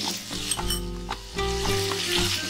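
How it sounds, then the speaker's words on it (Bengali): Spice paste of chilli, coriander, cumin powders and ginger paste with tomato sizzles in a pan on low flame for koi fish curry, a close crackling fry broken by a few stirring scrapes, with no talk. "এবার লো ফ্লেমে মশলাটা একটু ভালোভাবে কষিয়ে নেব।"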